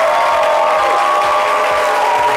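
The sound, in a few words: audience applause welcoming a guest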